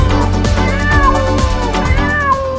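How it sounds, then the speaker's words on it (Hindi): A cat meows repeatedly in a children's story, several clear drawn-out calls in close succession, loud and near with no talk over them. "बबलू की नजर एक बिल्ली पर पड़ी"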